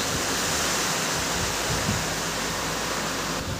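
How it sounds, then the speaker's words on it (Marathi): Water pours steadily into a pan of bean curry, a loud continuous rushing splash that holds evenly throughout, with no voices. "आपण आता ह्या बिरड्यामध्ये पाणी ओतून शिजत ठेवूया."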